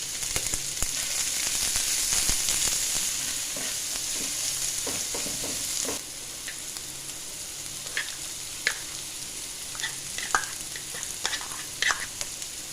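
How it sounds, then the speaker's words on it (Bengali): Crushed garlic and chopped onion fry in hot oil in a pan, a close, steady sizzle with stirring scrapes, loud at first and then quieter with scattered pops and clicks, no voices. "প্যানে তেল দিয়ে তেল গরম হলে তাতে 1 চামচ থেতো করা রসুন দিয়ে হালকা ব্রাউন করে ভেজে নেব"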